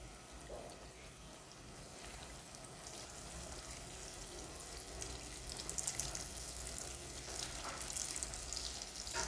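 Banana turon frying in hot oil, a soft, steady sizzle and bubbling that grows slightly louder and more crackly toward the end, quiet and with no talking.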